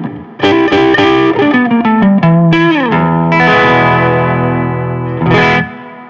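An electric guitar played through an amp with the treble turned down rings out distorted, a quick run of picked notes and sliding chords followed by a sustained ringing chord, loud and full with effects.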